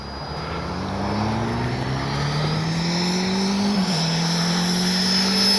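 A Freewing 90mm F-4 Phantom II RC jet with an electric ducted fan flies past, its loud whine rising and then falling in pitch as it sweeps by, with no talking.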